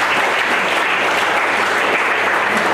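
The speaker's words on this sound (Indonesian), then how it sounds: "Mereka berikan tepuk tangan dulu." An audience at a Biak tribal welcoming and farewell ceremony in South Manokwari, West Papua, claps in loud, dense, sustained applause that holds steady for the whole span.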